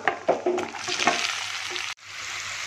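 Onions and green chillies fry in hot oil with a close, steady sizzle and a few stirring scrapes, then the sound cuts off abruptly.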